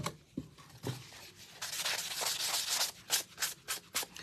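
Very fine sandpaper rubbing over a shaded surface in a series of quick, close strokes, the scratchy bursts growing denser and more rhythmic toward the end.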